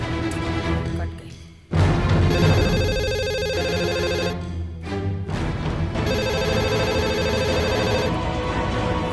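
A telephone rings in a domestic drama scene, a loud electronic ringtone repeating in bursts with brief gaps, set over a dense musical background.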